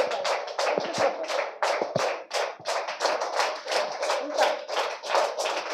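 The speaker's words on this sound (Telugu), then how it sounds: "రెండు చేతులు చప్పట్లు గట్టిగా కొట్టండి." A church congregation claps both hands loudly in a steady, rapid rhythm of sharp claps, with a preacher's voice briefly heard over the clapping.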